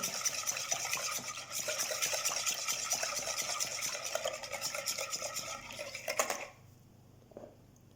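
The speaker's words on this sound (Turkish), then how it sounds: "Karıştırıyorum." A spoon scraping and stirring a dough mixture with vinegar and salt in a bowl, quiet and close with fast, continuous wet swishing strokes that stop abruptly near the end, leaving a few faint clinks.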